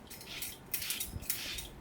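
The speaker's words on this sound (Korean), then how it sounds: "양배추 채칼로 양파를 얇게 써는 중이에요" An onion is thinly sliced on a cabbage slicer in a home kitchen, making repeated scraping swipes in a quick, uneven rhythm, close and fairly quiet, with no talk.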